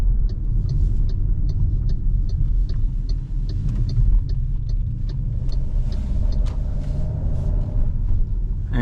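A 2025 MG HS drives along a city road, a continuous low engine and road rumble heard from inside the cabin, with faint ticking sounds repeating above it.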